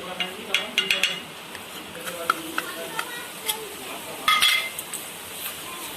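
Goldfish pieces being mixed with salt and chaat masala in a bowl, giving scattered light clinks, taps and soft scraping in irregular bursts, with a voice speaking intermittently in between.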